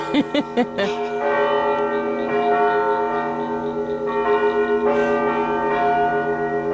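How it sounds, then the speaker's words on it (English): A large, real (not digital) bell tolls repeatedly with long, ringing overtones that linger and overlap, preceded by a few quick strikes; loud and resonant. "That doesn't sound like a digital bell. That sounds like an actual bell."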